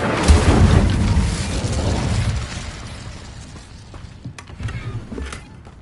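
The Incendio fire spell cast in Hogwarts Legacy bursts out as a loud, rumbling whoosh of flame that swells at the start and slowly fades, with a few smaller crackles and pops near the end.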